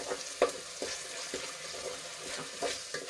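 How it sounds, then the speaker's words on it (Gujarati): Chopped tomato and onion sauté in a pan, a soft steady sizzle broken by scraping stirs and light clicks of a spoon against the pan, fairly quiet and close. "એક ટમેટું કાપ્યું હતું જેનું એ ઉમેરી દઈશું અને સરસ રીતે મિક્સ કરીને થોડાક સોફ્ટ થઈ જાય ત્યાં સુધી આપણે એને સંતળાવા દઈશું"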